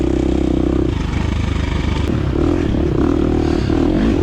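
A 2023 KTM 350 XC-F dirt bike ridden hard through whoops in a scramble race, its engine droning loud and close with steady throttle, rising and falling revs, and clatter from the rough ground.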